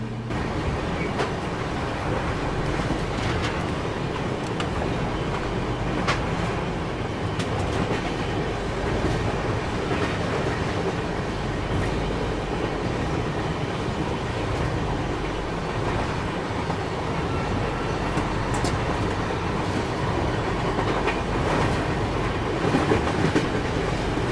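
A train crossing a large bridge over the Ganges rumbles steadily for the whole stretch, a continuous roar with faint rhythmic clacking of wheels, heard from inside; no one speaks.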